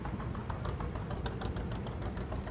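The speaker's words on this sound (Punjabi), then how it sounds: "ਜੌਂਡੀਅਰ ਦਾ ਜੁੜੇ ਟਾਇਰਾਂ ਵਾਲਾ ਟਰੈਕਟਰ ਆ ਇਹ" A 1938 John Deere tractor with dual rear tyres runs steadily up close, its old engine giving a continuous low rumble with a faint rhythmic knock throughout and no voices.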